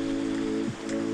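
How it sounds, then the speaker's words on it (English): Heavy rain pours outside a garage as a steady, dense hiss, with a low humming tone underneath that dips briefly partway through. "let me tell you, it is raining"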